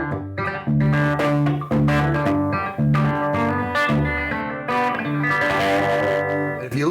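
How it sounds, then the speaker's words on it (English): An electric guitar played through a tube amplifier with slight distortion rings out in sustained, overlapping notes and chords. The tone is loud and close with a rich, buzzing edge and no talking. "there's a little bit of distortion in that sound."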